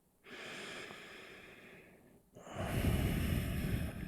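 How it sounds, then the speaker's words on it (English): Slow, audible ujjayi breathing during a yoga practice, a soft oceanic rush made by constricting the back of the throat, with a steady inhale followed by a louder, fuller exhale, close and alone. "begin connecting to our ujjayi breath. So that's the constriction in the back of the throat, creating an oceanic sound."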